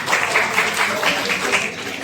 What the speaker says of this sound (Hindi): इसके लिए एक जोरदार तालियां हो जानी चाहिए